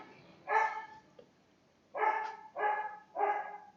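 A dog barks four times indoors at home, short loud woofs in an uneven rhythm with quiet gaps between them, fairly close to the microphone.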